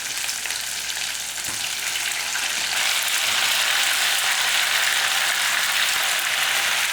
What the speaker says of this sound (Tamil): இந்த கத்திரிக்காயை நல்லா உதறிட்டு இந்த வெங்காயம் உணங்கும் போதே போட்டுக்கணும்